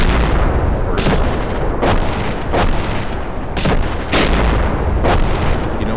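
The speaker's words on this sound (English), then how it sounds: "someone's throwing nades at me" Grenade blasts and gunfire in a realistic military video game: loud, sharp booming bursts at irregular intervals over a constant rumbling battlefield din, with no voices.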